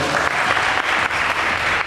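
An audience applauds cast members of a series being welcomed on stage, a dense, steady wash of clapping filling the room.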